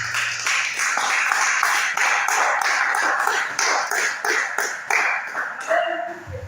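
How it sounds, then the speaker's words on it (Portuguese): A church congregation claps together in steady, rhythmic applause, loud and continuous throughout, with faint voices underneath and a brief tail at the end. "Dê uma salva de palmas para Jesus."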